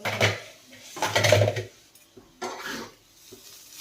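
A papaya dish is stirred in a metal pan, close and fairly loud: three bursts of scraping and clattering utensil-on-pan strokes separated by short pauses, with no talking.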